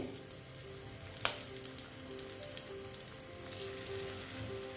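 Onion-stalk pakora fritters hiss and crackle in hot oil as they are dropped in, a faint steady sizzle dotted with small sharp pops.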